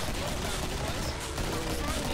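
Pistol fire in the video game Killing Floor 2 while fighting zombies, a dense, continuous rattle of shots and combat noise throughout, loud and busy with no clear gaps.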